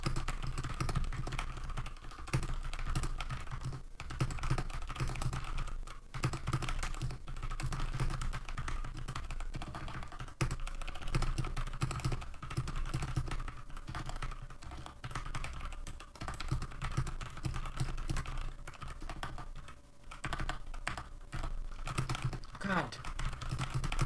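Continuous typing on a Velocifire VM02WS mechanical keyboard with MX Brown clone switches, a steady close clatter of tactile keystrokes running throughout with brief pauses, over a low background hum.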